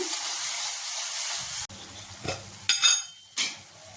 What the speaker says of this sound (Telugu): ఉల్లిపాయ పచ్చి వాసన పోయేదాకా మంచిగా ఫ్రై చేసుకుందాం